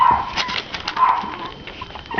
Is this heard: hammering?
no